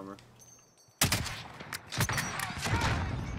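Sudden close gunfire in Call of Duty: Warzone (Modern Warfare season 3), a burst of rapid shots after a quiet start, with a voice speaking during the firing.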